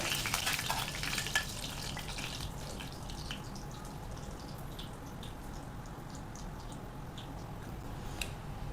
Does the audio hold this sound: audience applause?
no